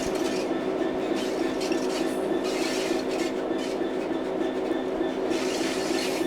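A Class 66 train in a train simulator game rumbles steadily past with rhythmic clattering wheels and a continuous, fairly loud roar, no voices present.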